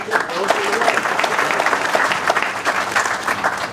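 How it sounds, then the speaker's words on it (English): Steady applause from an audience at a senior center groundbreaking ceremony, a dense continuous clatter of many hands that holds loud and even throughout. "And a big round of applause."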